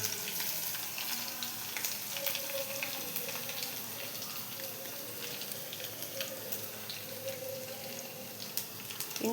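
Mustard seeds, cumin and crushed garlic frying in oil for a tempering while gongura curry is cooked, a faint continuous crackling sizzle with light clinks and a soft background hum.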